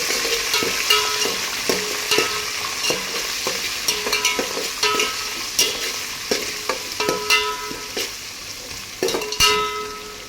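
Shahi jeera and spices frying in a pan for bagara rice, a continuous oily sizzle broken by repeated clinks and scrapes of a spoon stirring against the metal, close and with no talking.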